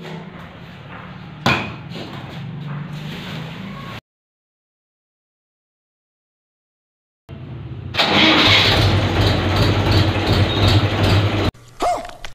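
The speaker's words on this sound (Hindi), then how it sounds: "मैंने ना ट्रैक्टर को पीछे कर दिया देखो ले जाके" A Mahindra 585 tractor engine cranks and starts up, with a stretch of low engine noise broken by a silent gap before the engine bursts into loud, steady running at close range.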